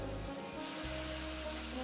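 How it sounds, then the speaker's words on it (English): White vermouth hits a hot pan to deglaze it, giving a hissing sizzle over a low rumble that drops out briefly then returns, steady and close. "So now I'm going to put a little of our white vermouth in there. We're going to deglaze the pan."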